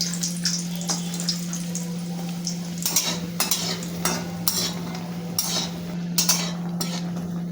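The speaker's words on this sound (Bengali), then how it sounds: "এবার আমি অল্প একটু বড়ি ভেজে তুলে নেব।" Bori, small sun-dried lentil dumplings, frying in hot oil in a kadai, a steady close sizzle with scattered clinks and scrapes of a spatula against the pan, and a low constant hum running beneath.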